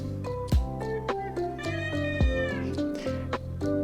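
A calico cat meows several times, drawn-out rising and falling cries mixed in with soft lo-fi music playing steadily underneath.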